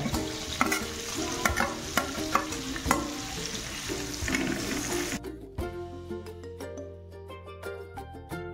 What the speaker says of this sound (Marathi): त्यानंतर त्याच्यामध्ये आपण ॲड करूया कांदा,